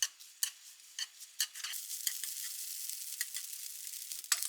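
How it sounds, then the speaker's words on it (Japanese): Aburaage, thin deep-fried tofu, stirred lightly in a pan: a soft, continuous sizzle with a string of sharp scraping taps from a spatula, with no voices. "油揚げを軽く炒めて"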